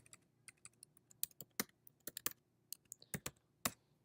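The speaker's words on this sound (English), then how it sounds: "Why don't we just type that?" Someone types on a computer keyboard nearby, sharp key clicks coming in uneven bursts with short pauses, some strokes much louder than others, in a quiet room.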